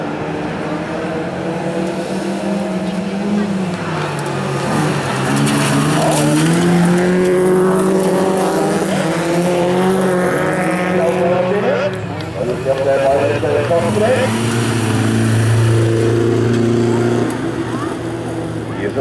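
Rallycross cars race on a Sigdal track, engines revving and shifting in loud overlapping runs that rise and fall continuously, with a commentator talking over them throughout.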